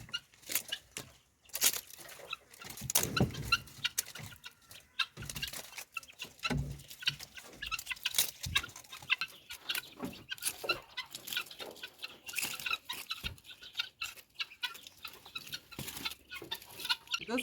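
Chickens feed on cabbage leaves in a farm garden, with soft irregular clucks, pecking and rustling of leaves running continuously and fairly quietly throughout.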